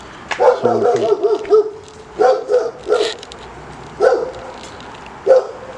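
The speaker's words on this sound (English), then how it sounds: "Excuse my dog for barking." A dog barks in short bursts, several sharp woofs spaced a second or so apart, close by and fairly loud.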